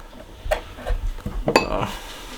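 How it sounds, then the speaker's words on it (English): A knife cutting peeled vegetables in half in a bowl, producing a few clicks and taps of blade against the bowl with light kitchen clatter, close and fairly quiet. "Get my handy dandy knife. All I'm going to do is just cut them in half."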